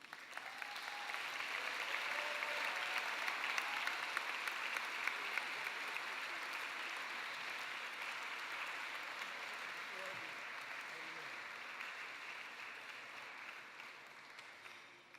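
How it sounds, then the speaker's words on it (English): A gala audience at a 2017 New York melanoma benefit gives sustained applause, a dense, even wash of many hands clapping that holds for about fifteen seconds before slowly easing off. "Let's give him another round of applause."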